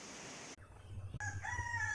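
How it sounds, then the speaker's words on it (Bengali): A rooster crows once, briefly and close, at a desi chicken farm, cutting in after a short burst of hiss and low rumble. "দেখো বন্ধুরা, এখানে কতগুলো মুরগি"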